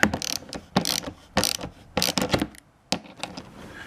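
Nylon-insert lock nuts being wrenched onto bolts while assembling a Gorilla Carts GCG-4 poly dump cart, a series of close, sharp ratcheting clicks in short bursts with brief pauses between turns.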